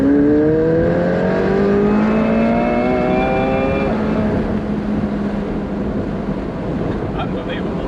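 A McLaren 720S Spider accelerates hard, its engine note climbing through rising gear pulls with sharp shifts, loud and close over wind rush, then settling into a steady cruising roar.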